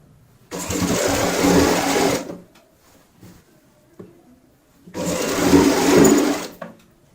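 A sewing machine stitches a gown side seam in two loud, steady bursts of rapid whirring, separated by a quiet pause with faint handling clicks.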